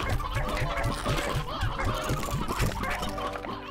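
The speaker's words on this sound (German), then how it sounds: "jetzt haben wir auf jeden Fall drei Gockel." Chickens from the video game Slime Rancher cluck in a quick repeating rhythm, several birds close together with overlapping calls, set against a busy in-game background of other sounds.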